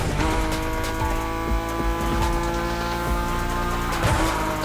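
Car drifting in The Crew Motorfest, engine roaring steadily with sustained tire squeal and sliding screeches throughout, loud and close with no talk.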